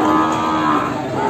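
Ongole crossbred cattle at the Kebumen livestock market, with a loud, sustained, close moo filling the brief moment over a busy market background.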